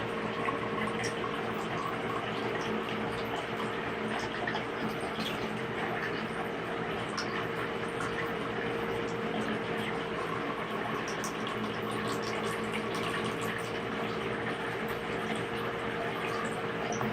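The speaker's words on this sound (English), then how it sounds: "Here's the water we're working with coming off the waste of the RODI membranes today." Waste water running steadily from the reject line of RODI filter membranes, a continuous even splashing and trickling flow with no pauses.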